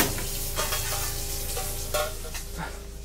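Pigeon pieces gently sizzling as they finish cooking in a restaurant pan, a steady soft crackle with a couple of light scrapes and clinks.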